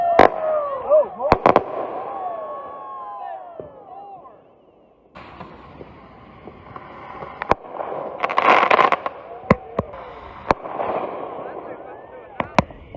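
Fireworks finale outdoors: a string of sharp bangs and crackling bursts with whistling, fizzing trails, some loud close reports spaced irregularly across the stretch, a brief lull midway, and occasional voices in the background.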